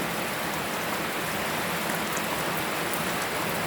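Afternoon rain falls steadily outdoors in a dense, even hiss of drops hitting surfaces, constant and close with no voices.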